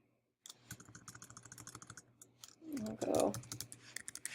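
A computer keyboard is typed on in a quick, uneven run of close clicks, with a brief spoken phrase partway through.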